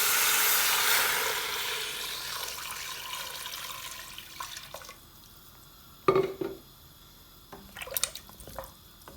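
Water pours steadily into a cooking pot of butternut squash for soup, a broad rushing stream that tapers off after about four seconds, followed by a few clanks and drips as the pot settles.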